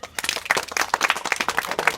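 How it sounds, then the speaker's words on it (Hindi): Children in a village community class clap together for a classmate, a steady burst of quick, uneven handclaps at moderate volume, with no talking over it. "शाबाश बेटा, ताली बजाओ इनके लिए।"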